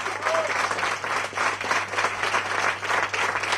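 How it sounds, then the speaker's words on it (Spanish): Enthusiastic applause at a Madrid supporters' federation 25th anniversary event, a crowd clapping in uneven rolling waves that swell and dip, loud and close, with a brief whistle early on and no speech over it. "un aplauso grandísimo para Roberto Carlos"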